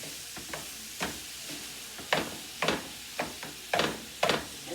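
Chopped meat, onions and garlic sizzle in a pan while a utensil stirs them, sharp scraping strokes arriving in an uneven rhythm, about seven or eight of them, close and clear over the steady frying hiss.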